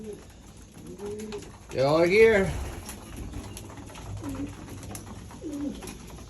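Young racing pigeons coo at their loft after a 47-mile training toss, low soft coos repeating every second or two, fairly close, while someone speaks briefly over them.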